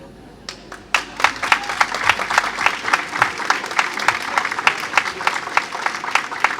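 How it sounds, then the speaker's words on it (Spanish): Audience applause at a cooperatives talk for International Day of Cooperatives, breaking out about a second in and holding steady as a dense wash of many hands, with sharp individual claps standing out near the front. "Aplaudimos entonces el gran mensaje"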